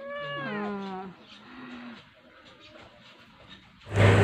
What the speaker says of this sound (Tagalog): Yung pusa namin na mga makukulit na pusa.